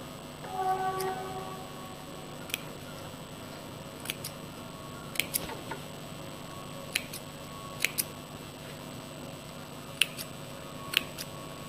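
Scissors make a series of small cuts into fabric around a rounded sewn edge, sharp isolated snips spaced irregularly every second or so, close and clear over quiet background with faint rustling early on.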